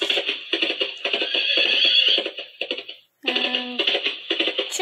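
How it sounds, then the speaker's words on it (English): A toy piano floor mat plays a recorded horse neigh, a loud whinny with fluttering pulses, a brief gap, then a second neigh that lasts to the end. "And horse."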